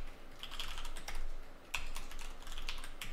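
Quick, light clicking of keys on a computer keyboard while code is typed in Eclipse, close and fairly quiet, with no talking.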